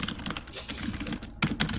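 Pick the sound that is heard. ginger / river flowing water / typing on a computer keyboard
typing on a computer keyboard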